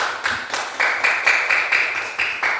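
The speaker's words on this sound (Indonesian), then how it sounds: "Beri aplaus dulu kepada Edis." Applause in a high school biology classroom comes as a steady run of sharp, evenly spaced claps, fairly close and alone without talk.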